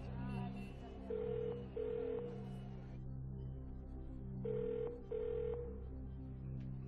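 A telephone on a game-show lifeline call rings twice in paired bursts, a steady electronic ring repeating over a tense musical underscore, heard fairly clearly at a moderate level.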